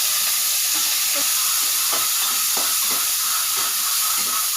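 Curry leaves and small shallots frying in oil for mango pachadi, a constant loud hiss with intermittent crackles and stirring clatters.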